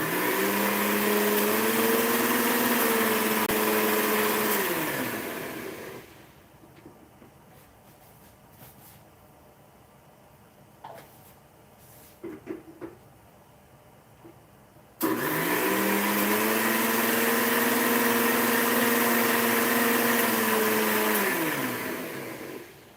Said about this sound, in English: if you add some soap and water and grind it, spin it, and then we are going to get clean grinder